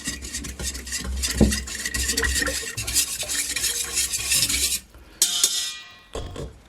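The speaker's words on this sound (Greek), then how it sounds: "Με ένα σύρμα θα τα ανακατέψουμε να ομογενοποιηθούν." A wire whisk mixes ingredients for pita bread dough in a bowl, with continuous brisk scraping and clinking that carries on steadily, then breaks off in short pauses near the end.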